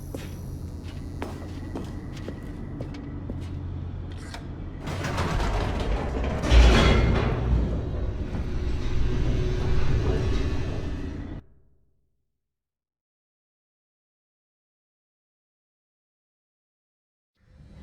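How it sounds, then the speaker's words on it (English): An elevator descending in The Stanley Parable: mechanical clanks and creaks build into a louder rumbling, rattling rush, which stops abruptly and leaves a long silence. "The elevator raced downward, plummeting towards an unknown fate."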